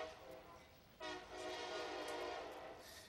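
A train passes by outside a book festival talk, its horn sounding loudly and sustained over a rumbling, clattering pass that swells suddenly and stays strong, with faint speech underneath.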